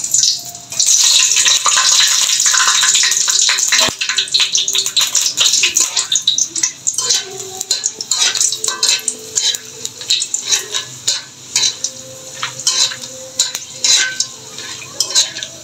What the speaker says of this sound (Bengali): আমি একে একে যে প্রথমে এলাচ দারচিনিটা দিয়ে দিব আর শুকনো লঙ্কাটা দিয়ে দিব